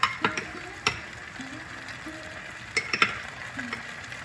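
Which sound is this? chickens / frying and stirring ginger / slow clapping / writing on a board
frying and stirring ginger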